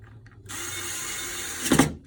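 Screws being driven into a power supply for a 3Com NBX V3000 phone system, a steady mechanical whirring and ratcheting that runs for about a second and a half, swelling into a louder burst just before it stops, with no talking.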